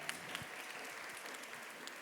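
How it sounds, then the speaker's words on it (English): A small audience at a mental health awareness summit applauds the event organizers. The clapping is faint, thin and distant, with a few sharper individual claps over about two seconds. "please give a round of applause to Miranda and her team for putting together this wonderful venue"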